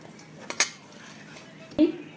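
A spoon mixes sugar and milk powder in a bowl, quiet apart from two sharp metallic clinks against the bowl, one early and one near the end.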